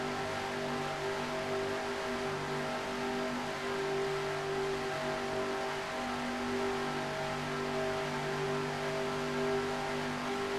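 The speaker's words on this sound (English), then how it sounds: "we're just going to give you a feel of how it really feels to be right in the middle of one of these very fast packs of cars" A tight pack of stock cars races flat out at Daytona in a sim racing game, producing a continuous, loud, droning engine roar with steady pitch and no pauses.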